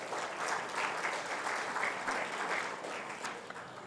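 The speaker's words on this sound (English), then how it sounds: "So, big round of applause for Miss Lakshmi Iyer." Audience applause for a speaker introduced at a capital markets business conference: a steady, dense wash of clapping from a sizeable crowd, sustained evenly for several seconds.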